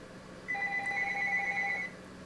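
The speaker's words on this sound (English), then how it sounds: "I suppose I could turn off the phone's ringer, but even if I did, you know, when the message machine kicked in, we'd still hear it." A telephone rings once in a room, a steady electronic double-tone burst lasting over a second, clear but modest in level against a quiet background hum.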